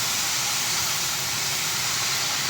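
Cabbage and other vegetables hit a hot pan for a vegetable and sardine dish, giving a steady, even sizzling hiss that holds at constant loudness throughout, with no voices.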